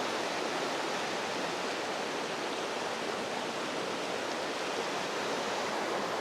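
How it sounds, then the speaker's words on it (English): Running water rushes steadily beside a cliff at Quartz Mountain, a dense, even wash of noise that holds at the same level throughout, with no voices. "There's just something so peaceful about being down by running water like this."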